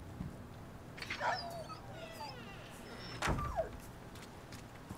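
A wolf in Resident Evil 4 Remake whimpers with a few thin, high whines and short yelps, close and moderately loud over a low game-ambience hum.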